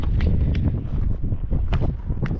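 Wind buffets the microphone beside a lake during September fishing, a low, continuous rumble with gusty swells and a few faint rustles and knocks close by.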